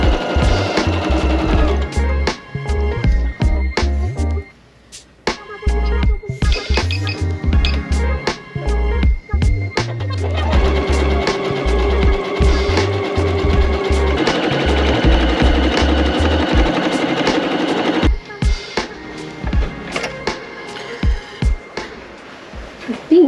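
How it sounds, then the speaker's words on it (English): A sewing machine mending worn clothes runs loud and close in bursts of rapid stitching, pausing and restarting, with a steady mechanical whir through most of the stretch. "you should just buy a sewing machine because it's not as hard as it looks"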